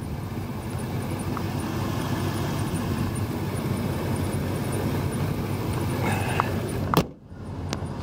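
A one-owner 2003 Ford F-250 with a 5.4 liter Triton V8 idles with a steady, smooth low rumble that holds evenly throughout, broken near the end by a sharp click and a brief dip.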